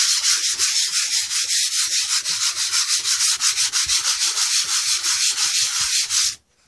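Sandpaper rubs back and forth over varnished wood, a close, loud, rhythmic scratching of steady strokes, roughly three per second, with no talk.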